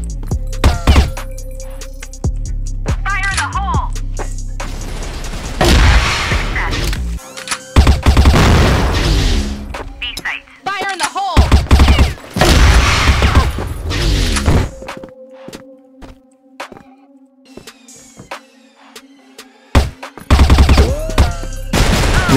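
In the video game CrossFire, a Cyborg gun fires loud, rapid automatic bursts up close, separated by brief quiet gaps, with booming impacts and thuds between volleys.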